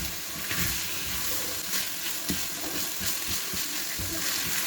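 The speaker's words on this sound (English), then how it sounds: "Next and last, we're going to add the vinegar. Give it a mix." Chicken samosa filling frying in a pan as vinegar goes in and gets stirred, a dense steady hiss with soft scraping stir sounds, close and continuous without talk.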